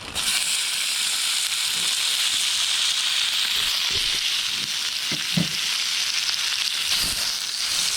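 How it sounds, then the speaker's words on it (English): Freshly harvested sliced mushrooms fry in butter in a pan, giving a constant close sizzle broken by a few soft stirring knocks, with no speech. "That's what I'm using if I didn't show you that I'm cooking with butter."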